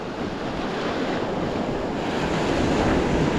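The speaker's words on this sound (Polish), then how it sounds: "Tu się zaczyna spadek i się zaczynają fale." Sea waves breaking over shallow water with an uneven, pitted bottom, a continuous broadband wash of surf that builds slightly toward the end, mixed with wind buffeting the microphone, no voices.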